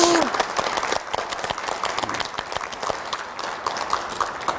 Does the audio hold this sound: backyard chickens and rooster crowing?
no